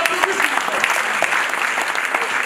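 Wedding guests at a Congolese civil wedding in Troyes clapping together, a close, dense burst of applause sustained throughout.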